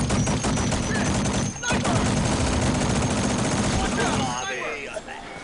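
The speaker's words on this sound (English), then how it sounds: "Other snipers shooting me too." Rapid automatic gunfire rattles in the video game Firefall, loud and sustained for several seconds, then drops away as other game effects take over near the end.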